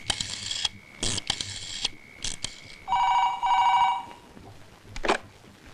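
A telephone rings indoors in a comedic stage sketch, with several short, bright, trilling bursts separated by pauses and a longer steady tone in the middle, clear and close with no talking.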